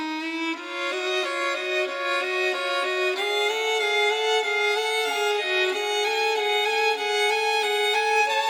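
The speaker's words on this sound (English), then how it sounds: "On top of that, I have this glockenspiel." Glockenspiel chiming a harmony in bright, ringing metallic notes that step along in a steady rhythm, layered with sustained pitched tones and heard clearly with no talking.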